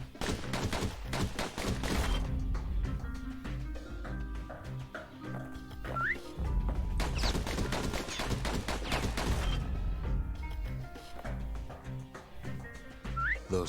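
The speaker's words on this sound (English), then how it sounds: "Those pistols could spit out rounds just as quick as you can pull the trigger" Pistols in the game Bastion fire at targets in fast, dense bursts. The shots rattle loudly in two long volleys around a short lull, with small whistling pings from the game mixed in.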